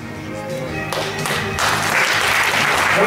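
An audience applauds at an award ceremony for young talent prize laureates. The clapping starts moderate, then swells into loud, dense, sustained applause in a hall.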